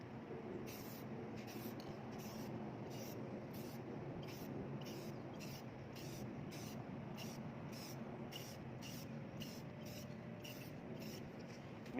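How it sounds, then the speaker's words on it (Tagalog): An aerosol can sprays clear protective industrial sealer onto artwork in rapid, regular short bursts of hissing mist over a steady background noise, close but fairly quiet. "So spray it like this."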